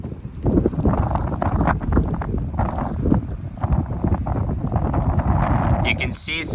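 Strong wind buffets the microphone on a ridge above a river, a rough, gusty roar that persists throughout and rises and falls in loudness.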